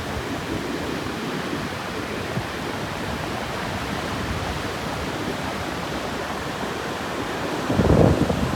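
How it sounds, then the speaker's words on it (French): Steady broadband rushing of wind at a motorhome park in Foz do Arelho, Portugal, loud and continuous, with a heavier gust buffeting the microphone near the end. "c'est qu'il y a du vent"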